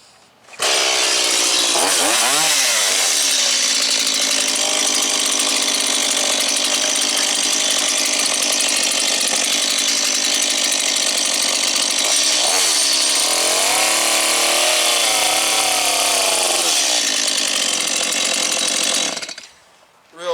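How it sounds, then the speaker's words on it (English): A chainsaw runs loud and steady for about twenty seconds, shredding cabbage into fine slaw for sauerkraut, its engine pitch dipping and wavering as the blade bites into the thick, hard heads. "Now the nice thing with the chainsaw"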